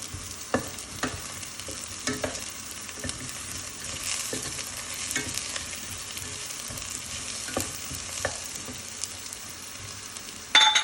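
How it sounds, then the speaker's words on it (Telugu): Onions frying in a pan for prawn biryani, giving a constant close sizzle broken by scattered spatula scrapes and clicks, with a brighter metallic clang right at the end. "బాగా వేగుతున్నాయి కదండి, ఉల్లిపాయలు బాగా వేగితే బాగుంటాయి"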